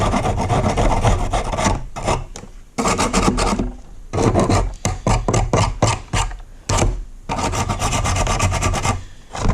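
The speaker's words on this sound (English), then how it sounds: "Light sanding just to clean it up." Short bursts of hand sanding on wood, a rough rasping broken by frequent pauses, close up with no speech.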